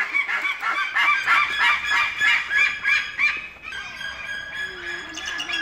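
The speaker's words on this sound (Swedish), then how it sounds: "Det låter som en gås." Geese honk loudly and repeatedly, a dense chorus of harsh nasal calls nearby that thins out toward the end.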